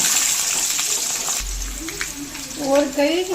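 Peeled garlic sautéing in a pan over a low flame gives off a steady frying hiss that fades slightly midway, with a voice briefly audible near the end.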